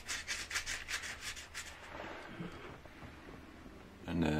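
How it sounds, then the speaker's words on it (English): Sandpaper rubs over a soapstone surface in a quick run of rhythmic strokes, followed by slower, softer scraping and one louder final rub, all fairly close and quiet. "Then I use some sandpaper to soften the surface"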